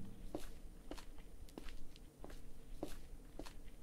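Quiet, close footsteps in a horror video game, a steady series of soft individual steps at roughly half-second intervals with faint background hum and no voices.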